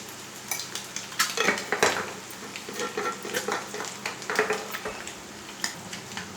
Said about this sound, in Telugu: ఇప్పుడు కారం వేసుకుందాము. ఒక 2 చెంచాలు కారం